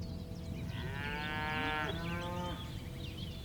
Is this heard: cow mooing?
yes